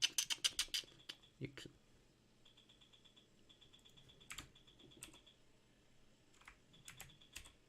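Rapid clicking and tapping in bursts from a computer keyboard and mouse working trading software, with quiet pauses between clusters.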